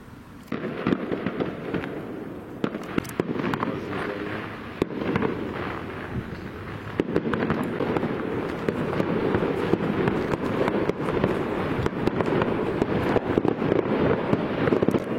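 A daytime fireworks display in Saint-Cloud park crackles and pops continuously, dense bursts of firecracker-like reports going on steadily for several seconds with no voices.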